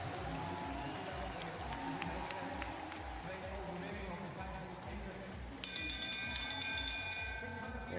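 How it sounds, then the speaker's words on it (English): A final-lap bell rings at a World Cup speed skating 1000 m race in Heerenveen, a bright repeated clanging that starts late and carries over steady crowd noise and a commentator's voice. "And they hear the bell."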